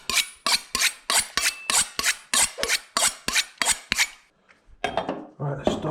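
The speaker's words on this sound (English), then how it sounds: "Just going to grate 2 apples first." Apples with the skin left on rubbed against a hand grater, a steady run of about a dozen rasping strokes in even rhythm, close and loud, then a pause and a few rougher scrapes.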